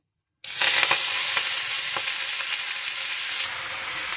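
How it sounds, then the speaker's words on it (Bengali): Leafy greens (shak) hit hot oil seasoned with salt and chili, bursting into a loud, steady sizzle that holds strongly for several seconds before easing slightly near the end. "তো নুনটা দিয়ে নিয়ে এখন শাকটা ভাজবো, দেবো।"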